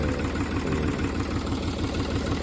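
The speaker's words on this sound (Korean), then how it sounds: "적당한 손으로 적당히 조여서 시동을 걸면은 그때 이제" A tractor engine runs at a steady, throbbing idle after a fuel filter change and air bleeding, a continuous low rumble with a regular pulse, close up and with no talking.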